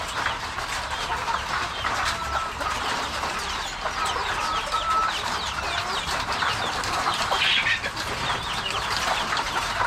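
Backyard chickens clucking steadily at morning feeding, with a dense, continuous chorus of close cackles and chirps from a flock of hens and chicks and no talking.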